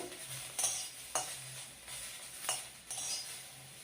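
Chopped onions fry to brown in a pan, a quiet sizzle with several distinct scraping stirs of a spoon against the metal, roughly one every second, and no talking.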